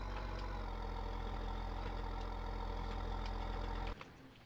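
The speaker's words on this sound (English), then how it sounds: "We'll put the tractor in here." A tractor engine idles steadily in a farming survival game, a continuous low rumble with a faint knocking texture that cuts off abruptly near the end, with no talk over it.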